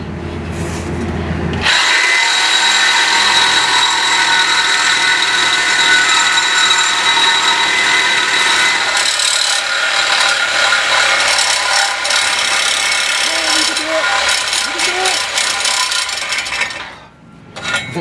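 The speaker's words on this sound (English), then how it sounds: "I think my saw's broke." A power saw cuts on a 1968 Chevelle with a 307 engine, a loud, sustained, harsh grinding whine that starts abruptly, runs steadily for about fifteen seconds with slight changes in tone, then dips and stops.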